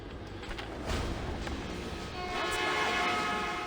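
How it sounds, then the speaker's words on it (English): A video game train horn sounds over a low rumbling rail roar, the horn growing louder and more sustained toward the end. "Oh, I hear a train."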